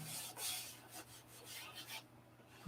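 Sandpaper rasps across a wooden block while shaping the bottom blocks and cowl, a steady run of close, gritty rubbing strokes with soft pauses, fairly quiet and with no voice.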